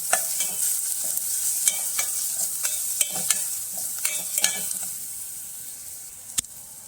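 Turmeric and salt are stirred into misal in a pan, a soft sizzle beneath repeated clinks and scrapes of the spoon that fade toward the end.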